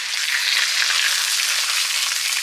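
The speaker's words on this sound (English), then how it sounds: "That sizzle, guys." Bread and cheese sizzle in a pan on the stove while cooking a New York style bacon, egg and cheese sandwich, a steady, close, loud frying hiss with no talking.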